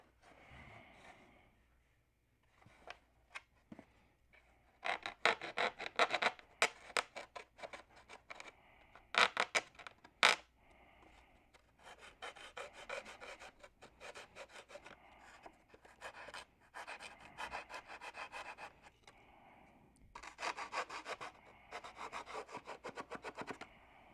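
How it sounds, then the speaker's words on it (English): Sandpaper rubs against a model wing tip for a Tucker XL wing in quick, rhythmic rasping strokes, grouped in bursts with short pauses, close but fairly quiet, with no voices. "so now we need some sandpaper so it fits in perfect."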